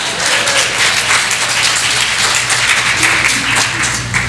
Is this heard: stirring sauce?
no